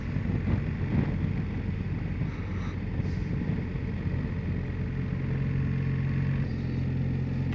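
A motorbike rides along Hastings Cave Road, a forest road in Tasmania, with a steady engine drone under heavy wind rumble on the microphone throughout and no voices.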